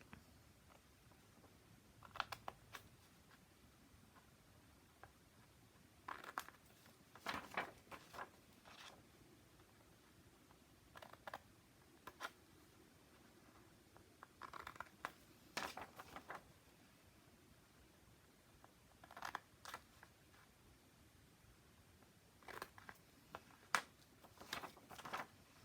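Scissors snipping small triangles out of paper for a lace-and-roses craft piece, heard as quiet, scattered clusters of crisp clicking cuts spread through a near-silent room.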